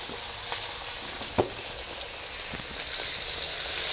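Chopped onion, green chili, tomato and garlic frying together in a pan, a bright hiss that swells toward the end, broken by a few knocks and scrapes of stirring, close by with no talking.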